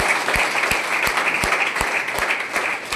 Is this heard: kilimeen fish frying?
no